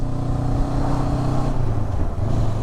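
Motorcycle engine pulling hard through fourth gear, a steady loud drone whose pitch climbs smoothly and dips briefly near the end, heard close up with wind rush and no talking.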